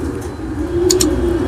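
Racer pigeons in a loft give a low, steady cooing drone, close and moderately loud, with a couple of brief higher chirps near the middle and no speech.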